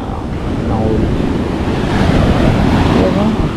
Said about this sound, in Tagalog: Yan oh, ang taas ng alon.